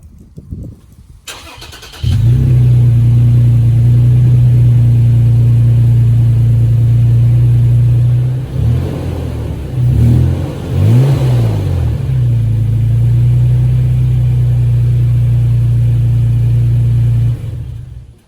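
A 2019 Toyota Tacoma TRD Pro pickup cranks and fires up on a cold start, then settles into a loud, steady rumbling idle with a couple of brief revs midway.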